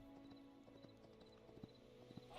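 Clip-clop hoofbeats of a horse in the video game Hytale, a few soft, irregular thuds over a quiet ambient drone, faint and without speech.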